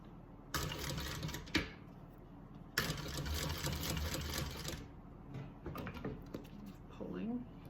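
A sewing machine top stitching a handbag, two close bursts of rapid whirring stitching about two seconds each, followed by softer handling noises, with talking throughout.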